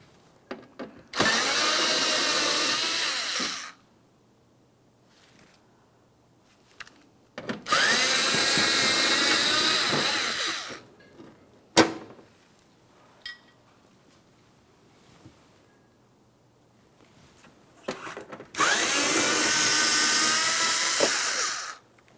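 A power tool spinning out 5.5mm mounting bolts on a Ford F-150 fender, heard as three separate whirring bursts of a few seconds each, split by quiet gaps and a sharp click or two.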